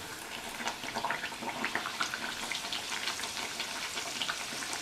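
Sojji appam, a sweet stuffed fritter, deep frying in hot oil, a steady soft sizzle with faint bubbling crackles throughout, quiet and close, with no voices.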